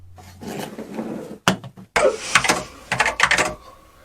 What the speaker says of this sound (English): There's an echo. I've never heard a keyboard echo before.